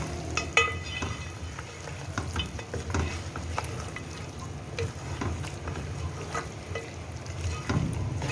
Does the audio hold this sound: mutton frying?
yes